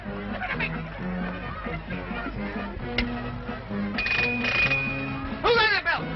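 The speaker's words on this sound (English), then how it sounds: "Who rang that bell?" A ship's bell rings briefly amid busy music and commotion in an old film, with a high steady ringing tone standing out near the end.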